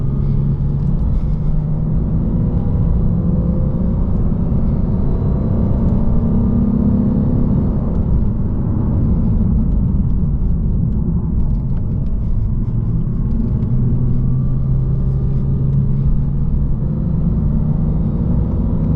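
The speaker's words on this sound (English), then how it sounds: "This is with ASC off, so no pumped in engine noise." Natural engine sound from a 2022 Lexus RC350 F Sport V6 on a mountain road drive with induction noise heard from inside: a steady, loud low drone and rumble that holds for the whole stretch with little change in pitch, and no voices.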